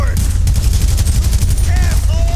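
Rapid gunfire in the video game GTA 5, a dense, loud and continuous barrage of overlapping shots with brief whistling tones over the top.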